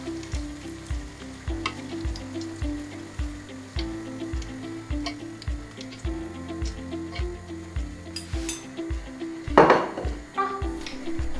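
Cheese ring doughnuts (oponki) fry in hot fat in a pot, a steady close sizzle with rhythmic ticking and a louder bubbling surge near the end.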